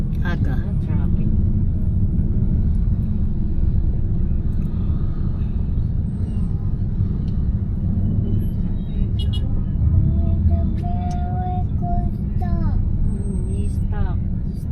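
City road traffic in General Santos, a steady low engine rumble of passing cars and vehicles close by, continuous throughout, with people talking over it.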